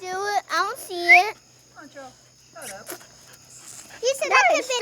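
A dog whimpers and gives short yelping barks in bursts, close and fairly loud, while children talk at a family fireworks outing.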